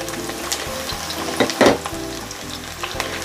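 Thinly sliced garlic sautéing in oil for orek tempe basah, a loud, close, crackling sizzle with bursts of spattering and stirring scrapes, heard alone without talk.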